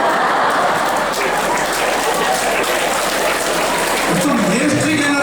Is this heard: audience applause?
yes